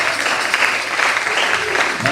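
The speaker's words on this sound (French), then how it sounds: "Tu peux applaudir le Seigneur pour continuer." A church congregation applauds during a service, a dense, steady wash of many hands clapping at close range for about two seconds, with no talking over it.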